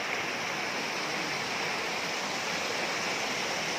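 A river stream near Hulogan Falls rushes in a dense, steady roar of flowing water, loud and continuous with no voices over it.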